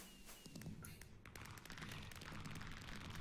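Fireworks go off in the video game Minecraft as a dense, steady barrage of rapid pops and crackling bursts that fills the whole stretch and grows slightly louder toward the end.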